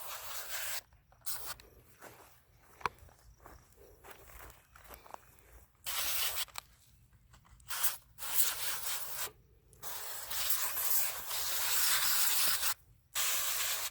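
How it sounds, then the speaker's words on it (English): A garden sprayer mists plant leaves in an organic garden with repeated soft hissing bursts of spray. The bursts are separated by short pauses, with faint rustling between them. "So I spray the top of the leaves, and then I go underneath each leaf."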